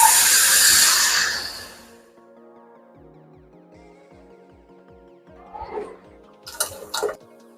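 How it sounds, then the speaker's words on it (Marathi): Water saved from boiling lentils for puran is poured into hot oil fried with spices for Maharashtrian katachi amti, bursting into a loud hissing sizzle that fades within two seconds into a low simmer, followed by light clinks of a utensil. "आता हे जे पुरणाचं पाणी होतं ते टाकून घेणार आहोत"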